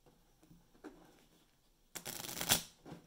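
A deck of number cards is shuffled in a short burst, a loud riffling flutter that peaks and then ends with a light snap, preceded by quiet handling rustles and no talking.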